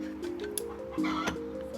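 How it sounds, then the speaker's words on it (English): Chickens in a backyard coop on a Florida garden property give a few short clucks and calls, fairly soft and mid-distance, over quiet background. "this is what we call our chicken palace"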